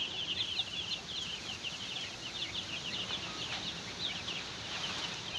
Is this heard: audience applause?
no